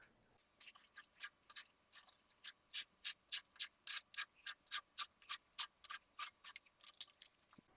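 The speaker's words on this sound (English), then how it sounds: "I'm going to put some tape on this cutter head just to make sure I don't cut myself." Tape is repeatedly pulled and pressed onto a jointer's helical cutter head in a quick, regular series of short, crisp rasping strips, close and fairly quiet, with no talk.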